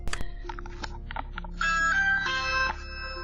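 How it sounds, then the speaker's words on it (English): A Ring doorbell camera chimes at a home's front door: a couple of clear ringing tones sound, followed by a sustained, brighter chime that holds for about a second, with no talking. "Leah rang the doorbell, hoping her husband would see the Ring app"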